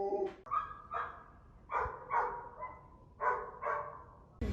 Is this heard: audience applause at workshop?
no